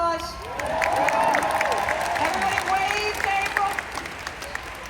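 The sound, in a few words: convention audience applause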